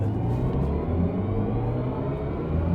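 A low, electronic droning hum rises as a BMW electric car accelerates in sport mode, blending with road rumble and whir, continuous and fairly loud throughout.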